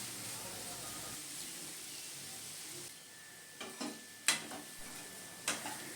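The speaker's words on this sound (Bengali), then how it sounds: "এই সময়ে আমরা গাজর এবং আলুটাকে পুরোপুরি ভাজতে ভাজতে" Carrots and potatoes frying in a pan, a soft steady sizzle that thins out midway, broken by a few sharp clinks and scrapes of stirring near the end.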